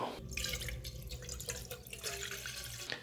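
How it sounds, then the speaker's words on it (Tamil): Milk pours into a pan for a seaweed pudding on a simmering stove, a steady close liquid splash and trickle that continues without pause. "இப்போ நம்ம எடுத்து வச்சுருக்க பாலை வந்து இதில் சேர்த்துக்கலாம்"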